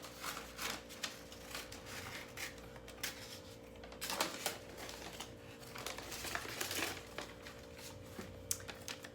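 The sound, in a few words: cutting an oval out of newspaper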